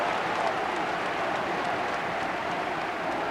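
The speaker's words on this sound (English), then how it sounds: "And the crowd again salute Letitia over there as he goes to take it." Football stadium crowd applauding during a Southampton v Everton match, a dense, steady wash of clapping and crowd noise from a distance, with no break.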